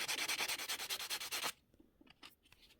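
A buffer works the wire of a men's jewellery pendant, giving a rapid, rhythmic rubbing that is loud and close. The strokes repeat about ten times before stopping abruptly, and faint handling noises follow.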